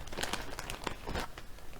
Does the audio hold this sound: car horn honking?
no